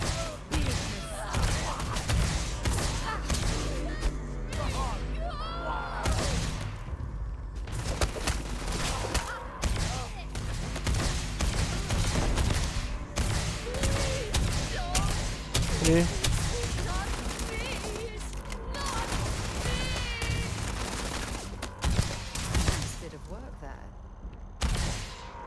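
Gunfire bursts in the video game Starfield crack repeatedly in quick volleys and scattered shots, mixed with game sounds and someone talking over the action.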